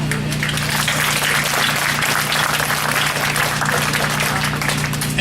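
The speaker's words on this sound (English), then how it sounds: "So a round of applause." An audience at an apartment ground-breaking ceremony gives a steady round of applause, dense clapping holding at an even level for several seconds without any talk.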